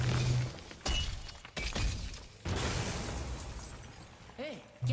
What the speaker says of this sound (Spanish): Una explosión.